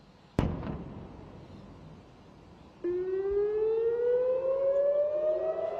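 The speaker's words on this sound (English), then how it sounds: "Warning sirens rang out across the country as Israel's air defences tried to knock the Iranian missiles out of the sky." A sharp blast cracks out, then a civil defense warning siren starts up and wails steadily with a slowly rising tone, loud and sustained, sounding during an Iranian missile attack on Israel.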